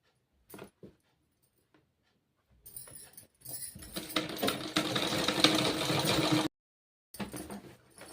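A sewing machine stitching kurti lining fabric runs in a steady whirring burst of a few seconds, preceded by short clicks and followed by another brief run, close up with no talking.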